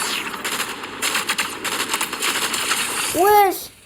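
Sniper gunshots in a video game ring out as a series of sharp, repeated cracks over noisy game audio, with a player talking in the background and a bright ricocheting chirp near the end.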